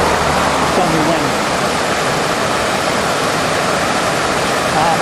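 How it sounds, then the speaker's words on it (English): River water pours over the remains of an old dam at a former industrial site in Hanson, Massachusetts, a loud, steady, broadband roar of falling water that stays constant and dense throughout. "As you can see where the water is falling, this is the remains of the dam that used to impound the river at this point."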